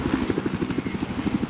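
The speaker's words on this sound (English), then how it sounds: "Get into this guy's chopper." A helicopter in the video game Battlefield 4 thumps with rapid, steady rotor beats and a low engine buzz, close and loud for the whole short stretch with no voices.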